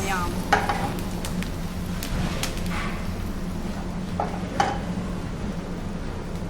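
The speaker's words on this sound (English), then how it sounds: "So that's just cooking nicely for a couple of minutes. We want the onions to release all their juices and sweet flavour" Onions cooking in a pan at a Fijian beach resort kitchen give a steady close sizzle with intermittent stirring scrapes and clinks, with no talking over it.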